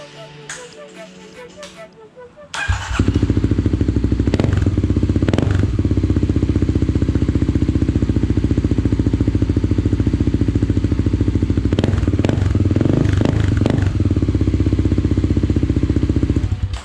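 A Kawasaki KLX250 motorcycle with an aftermarket exhaust starts up after a few clanks and idles loudly with a rough, throaty exhaust rumble, revving up briefly now and then.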